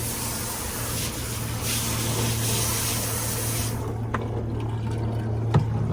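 A shower head spraying hot water with good pressure in a homeless man's setup: a steady, close, broadband hiss of water that cuts out partway through, leaving a low hum and a few drips.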